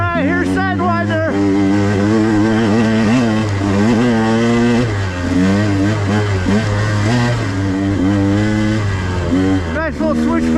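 Dirt motorcycle fitted with a Keihin 36mm carburetor and a VeeMoto Apex tire riding a trail, its engine droning loud and close throughout with continuous rising and falling revs as the rider works the throttle.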